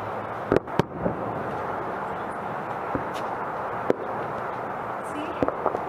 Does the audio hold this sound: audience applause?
no